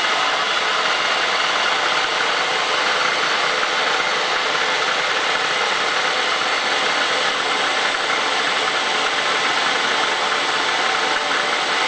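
Bridgeport milling machine trimming the length of a valve, a constant loud motor hum with dense mechanical whine and cutting noise, unbroken throughout and with no voices.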